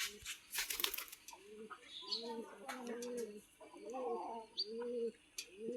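Pigeons coo repeatedly nearby in soft, rolling phrases, mixed with a few small chirps against a quiet yard backdrop where chickens are kept.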